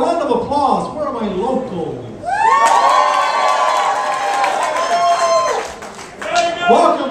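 Comedy club audience in Los Angeles cheering, whooping and clapping as a comedian is introduced; an excited crowd roar builds after a moment of emcee talk and stays loud and close with shrill shouts throughout.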